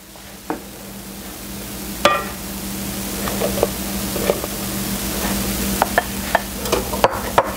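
Flour being stirred into chocolate cake batter in a bowl, a steady soft scraping swish with a few sharp clicks of the utensil against the bowl, close and fairly quiet.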